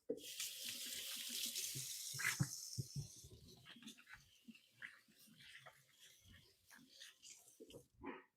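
Water runs from a kitchen sink tap during hand washing, a steady splashing stream at first that gives way to quieter dripping, rubbing and clattering, faint and close.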